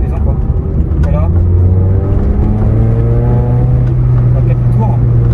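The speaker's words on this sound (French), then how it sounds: "L'échappement à partir de 3000 tours, qui fait un petit son sympa." A sports car's exhaust drones loud and close while driving, its engine note climbing steadily in pitch as revs build past about 3000 rpm, with a continuous low rumble underneath.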